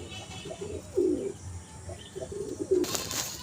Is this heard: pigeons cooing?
yes